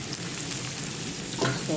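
Onion and shrimp frying in a pan make a steady, close sizzle, with a couple of louder stirring bursts near the end of the short stretch.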